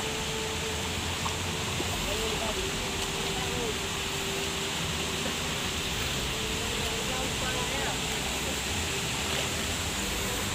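Water flows steadily in a forest stream, a constant rushing hiss without pause, with a faint voice now and then over it.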